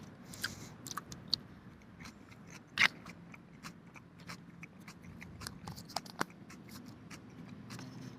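Someone chews a mouthful of dry coleslaw, with quiet, close, irregular crunches and soft mouth sounds and a few sharper crisp bites, no talking.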